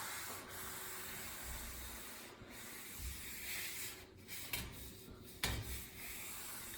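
An old white shirt used as a rag wipes along metal garage door rails, giving a steady close rubbing and scraping with a few sharper knocks and scuffs toward the end.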